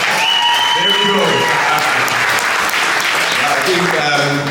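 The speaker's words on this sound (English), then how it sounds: "Let's give a bigger round of applause." Dense, steady applause from an audience at a boxing press conference fills the room, loud and close, with a voice talking over it and sustained tones from a sound system underneath.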